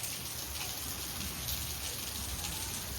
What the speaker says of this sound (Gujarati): જો બાર વરસાદ કેવો ચાલુ